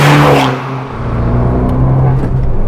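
A 2020 Abarth 595 Esseesse with its 180 hp engine, revving loud and close, the buzzy note dipping briefly as a gear goes in before climbing again steadily.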